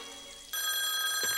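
A cartoon telephone bell rings from a Woody Woodpecker short, a steady bright electric ring starting partway in and holding loud to the end, with a brief squeaky vocal sound near the close.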